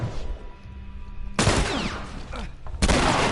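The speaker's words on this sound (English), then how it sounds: "Ellie shot me" Loud bursts of gunfire from Ellie in The Last of Us, with two sharp, close volleys cutting abruptly over a quieter stretch of game background.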